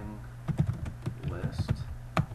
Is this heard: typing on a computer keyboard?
yes